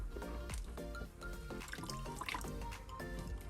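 Juice is squeezed from blended coconut pulp by hand in a kitchen, producing close, wet dribbling and trickling splashes that come in short, repeated bursts.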